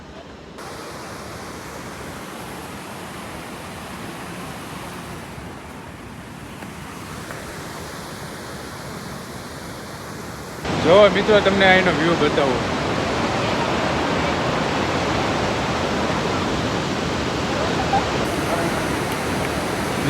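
Heavy water rushing from Shetrunji dam, a broad steady roar that swells louder about halfway through, with someone speaking briefly over the first part.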